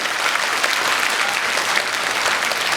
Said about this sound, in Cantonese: 俾啲掌聲我哋好嘛